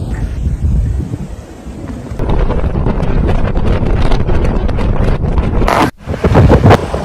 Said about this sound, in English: bringing with it strong, cold gusts of wind